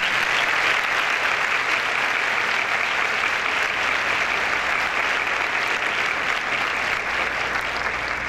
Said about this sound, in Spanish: Para ellos les quiero pedir por favor un fuerte aplauso.